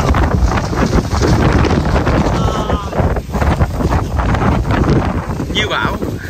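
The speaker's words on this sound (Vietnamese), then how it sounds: "Gió quá gió luôn." Strong gusting wind in Núi Chúa National Park on a stormy day, roaring and buffeting the microphone steadily throughout with brief dips, while a person talks over it.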